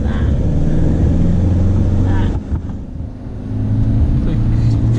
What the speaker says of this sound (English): We are driving through a tunnel to Milford Sound.